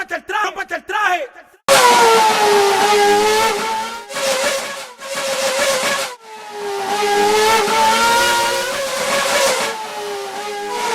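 In a sound art performance, a car engine's signal is multiplied with vocals, giving revving, harmonic engine drones that surge and drop in several loud bursts separated by short gaps.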